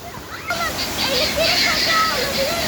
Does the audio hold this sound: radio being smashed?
no